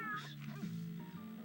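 A house cat meows indoors in a bathroom, one drawn-out, close and moderately loud call, with a voice faintly present underneath.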